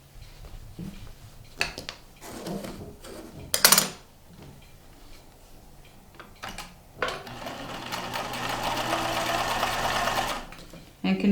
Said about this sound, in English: continue sewing down the side